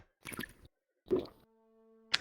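Someone sips a drink taken from the house, making two soft slurping, liquid sounds close up and separated by quiet, followed by a faint tone and a short click.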